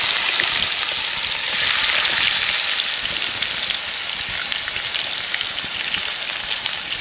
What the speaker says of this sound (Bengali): পেঁয়াজটা একটু ভাজা ভাজা করে লাল লাল করে ভেজে নিয়ে